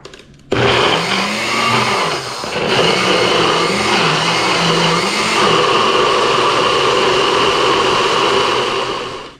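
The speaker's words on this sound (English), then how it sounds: "we're going to put it in the blender. We're going to blend it up" A blender whirs loudly and continuously for about nine seconds blending a Jamaican oxtail marinade, its motor pitch wobbling slightly as the contents churn.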